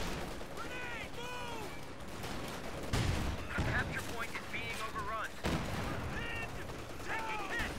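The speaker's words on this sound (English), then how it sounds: "Great shot in on the Stern Pioneers there from what I believe must have been a bazooka" A bazooka fires in a World War II strategy game amid a chaotic battle: repeated booming shots and gunfire crackle over whistling and mechanical noise, with no one speaking.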